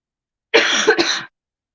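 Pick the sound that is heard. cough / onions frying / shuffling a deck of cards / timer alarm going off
cough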